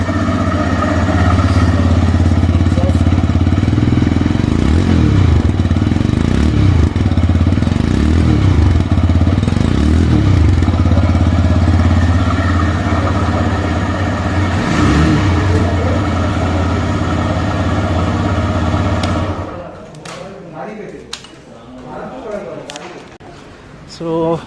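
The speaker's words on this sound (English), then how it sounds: "let's hear the exhaust note of the Raider" A TVS Raider 125 motorcycle's exhaust idles up close with a steady, loud, throbbing note for about twenty seconds, then drops away to quieter clicks and shuffling.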